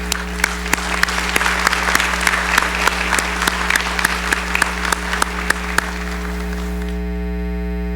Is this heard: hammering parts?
no